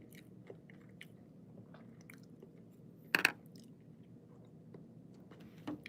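Someone eating wasabi chews quietly up close, with soft, steady mouth sounds and one sharp crunchy bite partway through.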